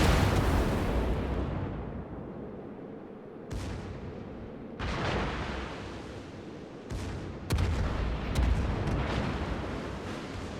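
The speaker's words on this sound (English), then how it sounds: "And not just your main guns open up," Warship main and secondary guns firing in World of Warships, a series of heavy booming blasts with rumbling decays, several salvos spaced a couple of seconds apart, loud and continuous, no talk.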